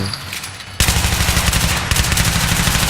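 Rapid automatic gunfire in a shooting video game, loud continuous bursts of closely spaced shots that briefly pause and then resume.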